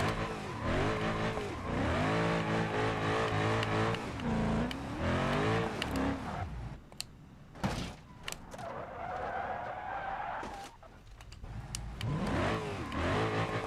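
Engine revving and accelerating in BeamNG.drive, harmonic pitch sweeps rising and falling across loud driving, with sharp bangs of impacts and a steadier mid-pitched whine in the middle stretch.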